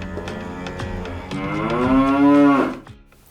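Cattle on a ranch give a long, loud moo that swells and falls, preceded by softer lowing and farm background, heard alone without talk.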